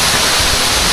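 Bigaho Falls in Port Barton, Palawan pours down as a loud, close, unbroken roar of rushing water.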